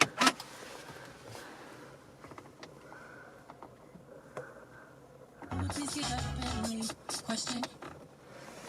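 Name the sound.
Volvo V40 car being started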